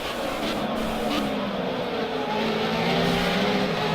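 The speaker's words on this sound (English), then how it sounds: "That's the view from Pedro's car" Onboard sound from a Formula Renault 3.5 race car at Silverstone, the engine a loud sustained drone with shifting pitch as it runs through corners and down the straight.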